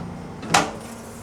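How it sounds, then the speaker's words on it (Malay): A hotel bathroom door is pushed open in Hat Yai, a single short sweep and thud lasting under a second against a low steady room hum, with no speech. "buka sikit pintu"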